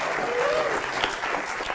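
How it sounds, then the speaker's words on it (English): Brief burst of audience clapping at a comedy magic show for a volunteer, a short dense patter with a voice faintly over it. "Round of applause for Megan"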